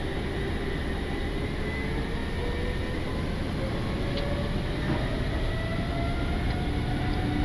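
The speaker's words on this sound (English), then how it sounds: "Takeoff." An Air Greenland Airbus A330-800 rolls for takeoff from Copenhagen, heard from inside the cockpit. A loud, constant broadband engine roar fills the cabin while faint tones slowly climb in pitch, with no clear talk.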